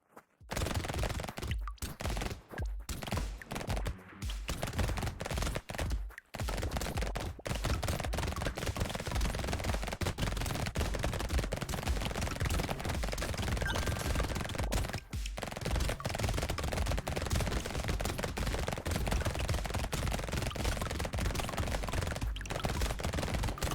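Weapon in the game Brotato firing shots about once a second, a steady stream of crackling pops over dense, constant game noise with a few brief dropouts early on.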